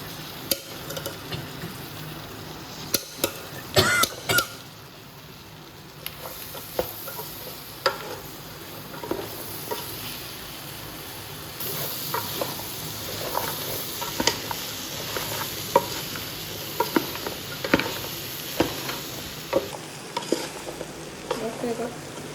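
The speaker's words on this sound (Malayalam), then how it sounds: "അതിനുശേഷം അരിഞ്ഞ് വെച്ചിരിക്കുന്ന മാങ്ങ ഇതിലേക്ക് ഇടാം കേട്ടോ" Chopped mango pieces tipped into a pan of mango pickle spice mixture and stirred, giving a steady scraping and faint sizzling patter throughout, with a few louder clunks near the start and no talk.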